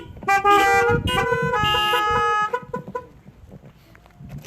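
Car horns honking at a drive-in church service, several overlapping sustained blasts for about two seconds, then a few short scattered toots fading out.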